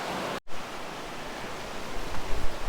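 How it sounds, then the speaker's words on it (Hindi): A waterfall pours above a river flowing past the base of a Balinese temple, giving a loud, dense, continuous rush of water with a brief dropout early on and surges near the end. "ऊपर देखो झरना बह रहा है।"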